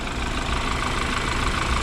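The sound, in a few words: 2014 BMW X3 engine idling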